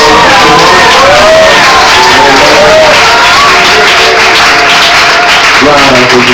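A church congregation in a tabernacle service bursts into loud, sustained applause, cheering and whoops, a dense crowd roar with shouted voices and sung-out cries rising above it throughout.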